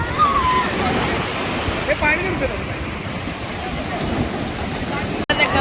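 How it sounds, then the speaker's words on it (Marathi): Rough sea surf breaks on Aaravi beach at Shrivardhan on the Konkan coast, a loud, continuous roar of crashing water with a few brief voices faintly in the background. "पाण्याचा फोर्स खूपच जोरदार दिसतोय. टाइम दिसतोय वाटतं, त्यामुळे समुद्र खवळला"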